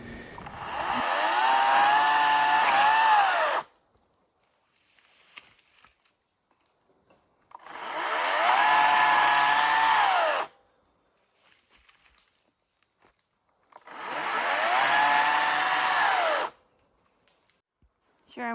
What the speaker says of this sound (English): Sure, I'm glad I got myself a chainsaw.